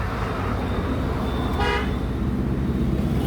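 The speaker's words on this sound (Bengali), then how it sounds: "গাড়ির হর্নটা কোনোভাবে শর্ট হয়ে গিয়ে ডাইরেক্ট হয়ে গেছে" A car horn, shorted after water got into its wiring, blares continuously over steady engine and street noise in a garage setting, loud and unbroken throughout.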